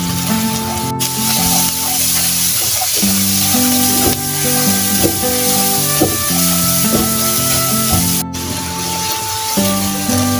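Carrots and egg sizzle and fry steadily in a hot pan for fried rice, a loud continuous crackling hiss close by with occasional soft scrapes of a spatula and no talk.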